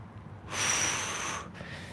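One slow, breathy exhale during a hip mobility and middle-splits stretch, a close airy rush of about one second rising after a quiet start and then fading.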